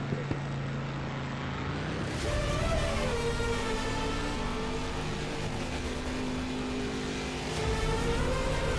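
Race car engines in a Roblox racing game drone and rev steadily, the pitch climbing and shifting as the cars accelerate, a continuous close engine whine with no talking.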